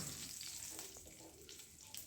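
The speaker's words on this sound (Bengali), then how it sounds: "বড়িটা এবার ভালো করে ভেজে নিচ্ছি" Soft, steady sizzling of lentil dumplings frying in hot oil, with a few faint stirring scrapes, quiet and close, no voices.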